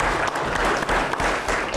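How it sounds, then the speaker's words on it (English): An audience at a Louisiana sports banquet with special guests claps in dense, continuous applause, loud and sustained. "Give them a big round of applause for what they do."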